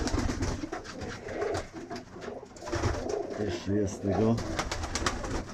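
Pigeons in a loft coo repeatedly in low, throaty bursts, with several birds overlapping nearby while someone speaks briefly over them.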